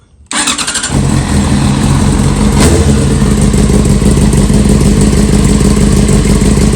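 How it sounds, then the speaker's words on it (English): A 2003–2005 Yamaha R6 sport bike engine cranks and catches, then settles into a loud, steady warm-up idle close by, running alone without talk. "We'll fire her up, get this thing running."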